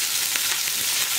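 Chicken pieces sizzle and fry in a hot pan, a steady close hiss with small crackling pops throughout and no voices.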